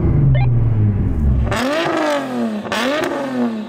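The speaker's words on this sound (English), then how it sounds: "I'm going to rev up this beast of a machine." Idling engine rumble, then two sharp, loud revs of a powerful Nissan GT-R engine, each rising and dropping back with a raspy roar.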